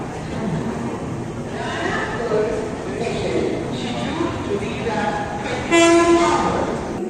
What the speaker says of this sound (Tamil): நம்ம ட்ரெயின் கரெக்டாக 9 o'clock வந்துருச்சு